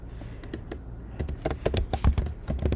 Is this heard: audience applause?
no